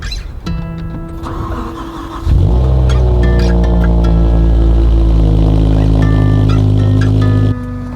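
A BMW E60 M5 with a naturally aspirated V10 and new intake starts up, then settles into a loud, close, steady roar with rich harmonics before dropping back to idle.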